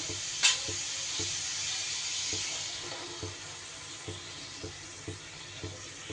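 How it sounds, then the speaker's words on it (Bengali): A paste of cashew, sesame, poppy seed and green chili dropped into a hot pan, giving a steady close sizzle with regular soft scraping knocks of stirring. "এইবার আমি যে কাজু, তিল আর কাঁচা লঙ্কার পেস্টটা করলাম, পোস্ত, সেটা এবার দিয়ে দেব।"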